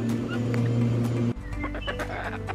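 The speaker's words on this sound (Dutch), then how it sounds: "Ik zit nu gezellig bij de kipjes" Chickens cluck softly in a backyard coop, a faint, steady clucking heard close by amid outdoor ambience.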